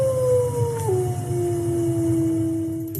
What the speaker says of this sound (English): nothing about the duration or the frequency range here would rule out that it could be a wolf that we're hearing in the recording